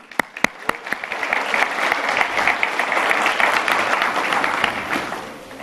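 A church congregation applauds: a few sharp early claps swell into dense, steady clapping that holds loudly for several seconds before easing slightly.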